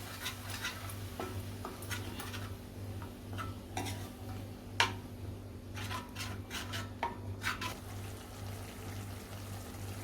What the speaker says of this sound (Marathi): मी सध्या अर्धा ग्लास पाणी घालून एक चांगले मिक्स करून घेते